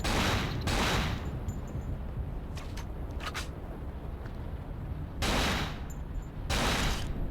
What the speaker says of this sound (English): And now to shoot this little thing.